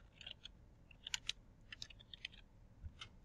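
Light, quick typing on a computer keyboard, a scatter of soft clicking keystrokes in short bursts over a faint background hum, close and quiet.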